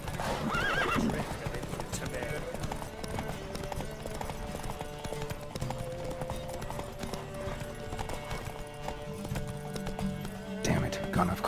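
Horse hooves clip-clop at a steady gallop during a race in The Witcher 3, with a neigh near the start, over constant in-game ambience and occasional voices.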